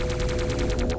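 Rapid gunfire in a video game, a fast rhythmic burst of repeated shots, loud and close over a steady tonal game hum, with no talk.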